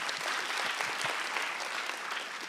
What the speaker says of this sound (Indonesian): Tepuk tangan untuk Pak Dendro